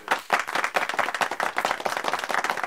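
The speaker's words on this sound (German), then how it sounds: "jawohl, natürlich ein Applaus" Audience applause at a live Christmas brass music show in Pfullendorf, Germany: a dense, steady burst of many hands clapping, loud and close, with no speech over it.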